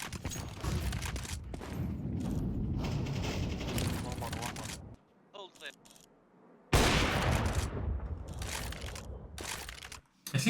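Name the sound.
gunfire in Counter-Strike 2 video game, P90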